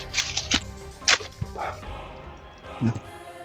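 Dogs bark in several short, sharp bursts outdoors, some near and some farther off, with people talking throughout.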